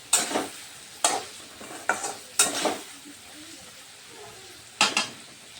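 A spoon stirs a mixed vegetable pickle in a pan with five distinct scraping strokes at uneven intervals, each a short rasp that fades into faint sizzling, close and with no speech.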